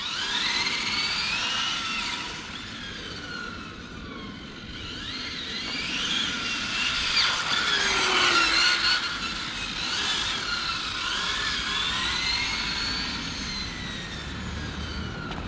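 A Hobao Hyper GTB RC car drives and accelerates, giving a steady high electric whine that rises and falls in pitch as the throttle changes, loud and continuous throughout.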